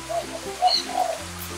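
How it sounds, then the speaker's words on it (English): Birds calling at Kuala Lumpur Bird Park, with a few short, soft coos and chirps rising over a low background hum of the outdoor aviary. "Birds are everywhere."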